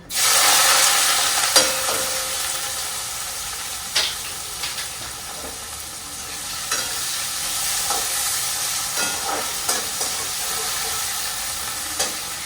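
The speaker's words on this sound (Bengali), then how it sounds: "চিকেনটাকে ভাজতে হবে তো" Yogurt-coated chicken frying in hot oil gives a loud, continuous hiss throughout, broken by scattered sharp pops and spatters, with no one talking.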